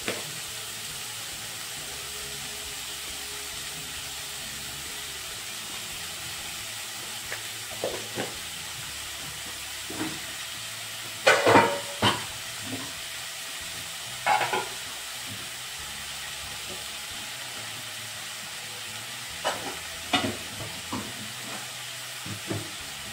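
Chopped onions fry in a pan with a little salt and turmeric, a soft low sizzle running throughout while a spoon stirs them in scattered scraping knocks, several sharper clatters near the middle and end.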